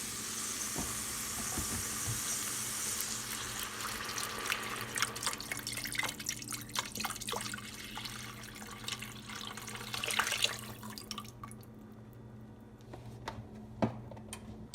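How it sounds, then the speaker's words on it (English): Vegetable broth poured from a carton into a soup pot of wild rice and vegetable soup, a steady liquid splash for the first few seconds, then softer trickles and drips continuing close by with no talking. "So now what we're going to do is add our vegetable broth"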